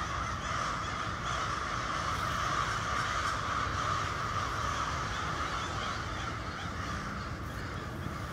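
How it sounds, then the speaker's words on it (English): Dense chorus of many crows cawing continuously at a winter roost, loud and steady throughout with overlapping calls near and far, no talking. "We got crows everywhere"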